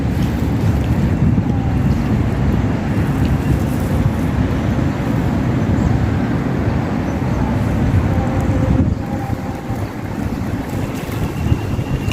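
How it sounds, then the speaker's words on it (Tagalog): Strong wind roars and buffets the microphone continuously outdoors at the Philippine Arena in the Philippines, a dense, loud rush with no talking. "malakas yung hangin"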